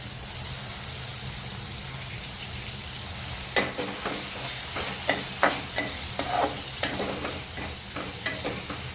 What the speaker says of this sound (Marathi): टॅमॅटो सगळं चांगलं परतून घ्यायचं आपल्याला.